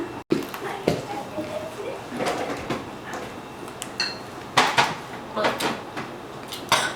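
Tuna salad mixed with hot dog relish in a kitchen makes irregular scraping, clinking and thumping sounds from a utensil against a bowl, close up and broken by people talking.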